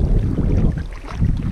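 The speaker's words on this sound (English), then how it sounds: "It's a lot windier than we're used to, but it's a big lake." Strong wind buffets the microphone on a big open lake during a canoe trip, a loud continuous rumbling roar with gusting swells and no voices.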